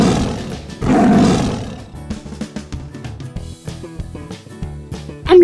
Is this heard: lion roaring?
yes